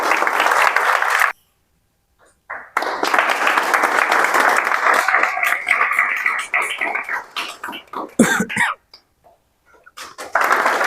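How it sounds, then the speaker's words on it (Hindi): Audience applause at a JEE Main 2024 result celebration for top students, a sustained clapping crowd that breaks off briefly, resumes loud, then fades in uneven bursts near the end. "ताली बजा दीजिए भाई।"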